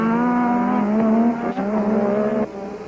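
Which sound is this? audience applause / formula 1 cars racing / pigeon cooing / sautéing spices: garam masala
formula 1 cars racing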